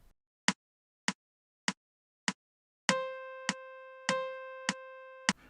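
Four metronome clicks count in, then a saxophone plays two half notes of equal length back to back, each held for two beats over the continuing steady ticks. No voices.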